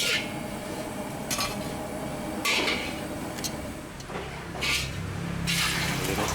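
Oil hits a hot cooking plate at an Indonesian street food stall where nasi goreng is being made, giving a sizzle and spatter with metallic scraping and clinks of utensils on the plate.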